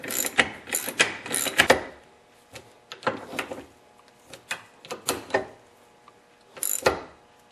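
Bolts are worked on a Craftsman snowblower drive ring with metal hand tools, giving close clicks, ratcheting rattles and clanks in irregular bursts with quiet gaps between them.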